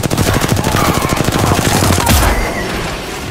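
Rapid automatic gunfire in the battle royale game Apex Legends, a dense burst of loud, closely spaced shots for about two seconds that then cuts off into a softer tail.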